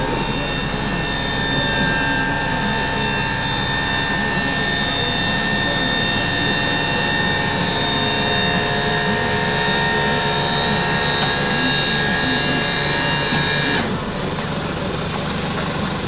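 A 1996 Mitsubishi Minicab kei dump truck engine drones at a steady idle under load while the dump bed is raised, a loud, even hum with a whining tone that drops away sharply near the end.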